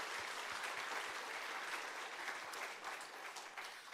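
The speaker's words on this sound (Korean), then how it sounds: "우리 올 한 해도 승리하시라고 다시 한번 박수 한번 합시다" Church congregation applauding at an evening service, a dense, even, sustained clapping throughout with no voices over it.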